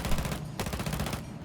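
Rapid automatic gunfire from a weapon in Rainbow Six Siege, two quick bursts of close, punchy shots separated by a brief gap.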